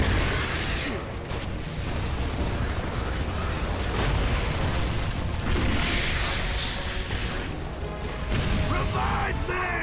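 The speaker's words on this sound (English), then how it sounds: "the mortar shells just bounce off the ceiling" Mortar shells explode in Gears of War 3 gameplay, a dense, loud, continuous roar of blasts, crashes and debris mixed with game effects, filling the whole stretch without pause.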